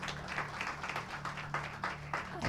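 Church congregation clapping in welcome for a newly introduced sister during a Hindi Christian service, a steady patter of many hands over a low hum, with scattered sharper claps standing out.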